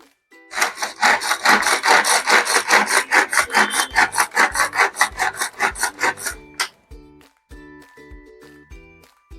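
A hand chopper cracks sago pearls into coarse bits, giving a fast run of loud, rhythmic rasping pulls that stop abruptly, followed by faint clinks and rattles.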